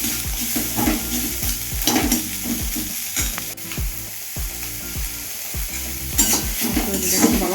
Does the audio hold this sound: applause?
no